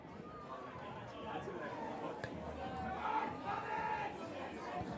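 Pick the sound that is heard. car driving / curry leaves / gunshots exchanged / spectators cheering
spectators cheering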